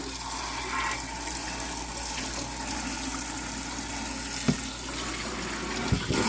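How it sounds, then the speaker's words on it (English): Hot water rushes steadily into a Honeywell humidifier reservoir, a continuous close splashing hiss with a few brief knocks and clunks of the plastic tank near the end. "Rinsing this out with some hot water here."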